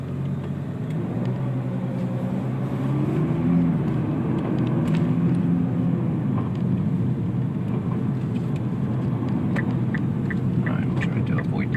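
A 2017 Nissan GT-R pulls hard on the road, its engine a steady low rumbling drone heard from inside the cabin, with faint road noise and a brief swell of power near the start.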